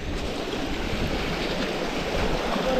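Small streams flow near Polur Falls in Kodaikanal, a steady, even rush of water heard alone and fairly close, without pause for the whole stretch.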